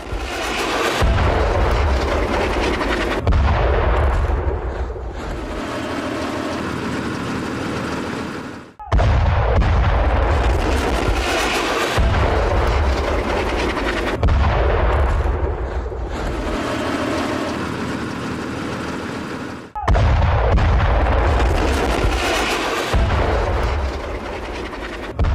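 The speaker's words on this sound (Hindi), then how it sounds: "तस्वीरों में नजर आ रहा है आपको हमास के हथियार भंडार को किस तरीके से बम से उड़ा दिया गया।" Bombs blow up a weapons depot in Gaza: loud, sustained blasts and heavy rumbling roar through in several long bursts, each breaking off abruptly before the next starts.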